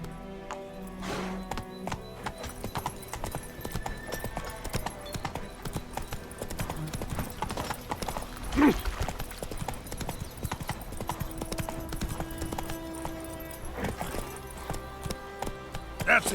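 A horse gallops in The Witcher 3: Wild Hunt, its hooves drumming a fast, steady clip-clop close by for the whole stretch, with a brief snort midway and someone speaking briefly over it.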